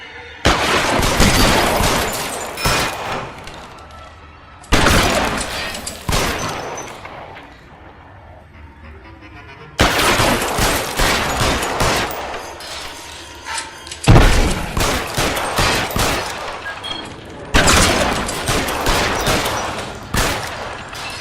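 Repeated bursts of gunfire from the video game L.A. Noire, loud and close, coming in five dense volleys of rapid shots and impacts separated by brief quieter gaps, with no talk over them.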